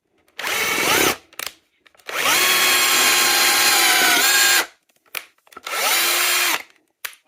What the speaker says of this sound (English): I'm just making pocket jig holes into these long planks